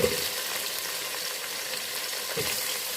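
Tofu pieces for a Malaysian-style sothi with pucuk and glass noodles sizzling steadily in a hot pan, with a near, continuous fry hiss and a couple of soft stirring scrapes at the start and near the end.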